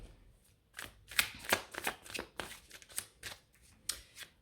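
Tarot cards are shuffled by hand in a quiet room, a rapid series of crisp riffling and slapping bursts, close and fairly soft.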